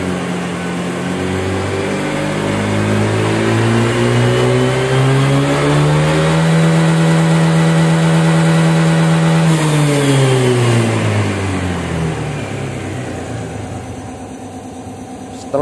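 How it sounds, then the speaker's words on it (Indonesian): A 2021 Honda Vario 125 scooter accelerating at full throttle: the engine drone climbs steadily in pitch, holds a high, strained whine near its top speed, then eases off. It is loud and close, with no one speaking. "Setelah digas full sampai mentok RPM-nya, ternyata mentok di angka 121"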